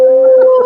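One brief, loud sustained howl with a steady wavering pitch, close and alone, lasting under a second.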